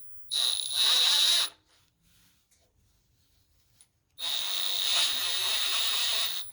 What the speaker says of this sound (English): To tighten the bolts, you're going to need a deep 10 millimeter.